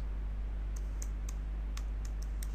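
Keys tapped on a computer keyboard in a few quick, light clicks, spaced unevenly over a steady low hum, with no talking.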